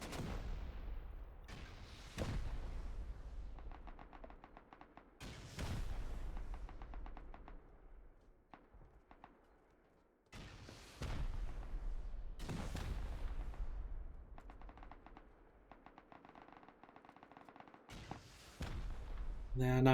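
During a base raid in the game Rust, rockets explode in a series of heavy, sharp blasts, each followed by crackling debris and a decaying rumble, spaced a few seconds apart, with a commentator talking between them.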